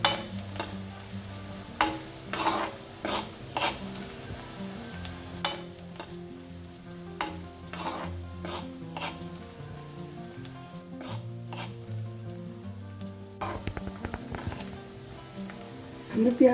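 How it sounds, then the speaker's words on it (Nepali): Onion fries in hot oil for Tibetan chicken syafale, a soft steady sizzle under repeated scraping and stirring strokes of a utensil against the pan, with a voice talking at times. "यो प्याज हालेपछि यो प्याज राम्रोसँग भुट्नुपर्छ। यसरी चलाइ चलाइ"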